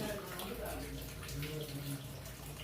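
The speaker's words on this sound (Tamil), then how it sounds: "இப்போ அரைச்சி வச்ச தேங்காவை அதில் ஊற்றி" Ground coconut paste is poured into a boiling fish curry of thirukai (stingray) fish. There is a faint, continuous liquid pour and bubbling over a low background hum.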